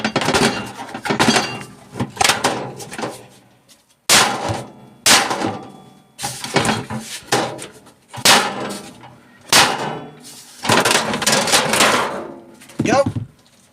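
A hammer whacks a microwave oven apart for recycling, delivering about nine loud, clanging metallic blows in an irregular rhythm, each with a short ringing decay, close to the listener.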